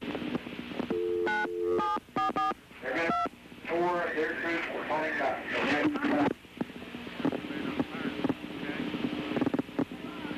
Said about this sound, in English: You can hear the 911 tones on the telephone.